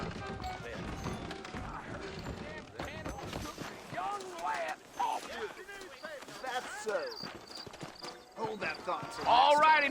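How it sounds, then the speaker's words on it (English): Horses clip-clop in the video game Red Dead Redemption, scattered hoof beats under nearly constant conversation between characters, with a brief whinny near the end. "I got the horses saddled up and ready out front."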